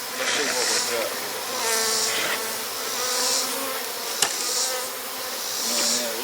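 Honey bees settling into a newly stocked hive make a dense, continuous buzzing hum close by that swells and eases in slow waves, with a single sharp tap partway through.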